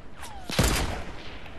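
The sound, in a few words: sniper gunfire in the video game Fortnite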